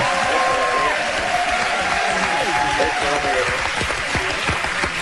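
A small radio studio audience applauds steadily, with dense clapping that carries on throughout and a faint voice underneath.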